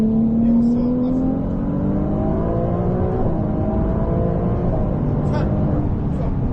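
Race car on a circuit accelerating hard out of a corner at full throttle, engine note climbing steadily and loud, with an instructor talking over it.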